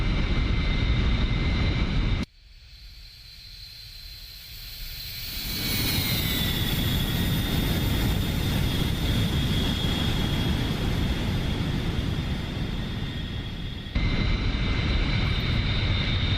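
A Bell 47 helicopter's engine drones in a flight simulator, a continuous steady whine and rumble that dips briefly, swells back, and holds loud throughout.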